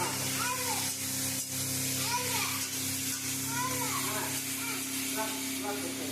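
Mutton sizzles steadily while being sautéed in a pan, a continuous hiss and crackle under children's voices chattering in the background.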